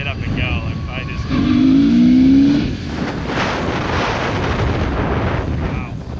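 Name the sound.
BMW motorcycle engine revving and accelerating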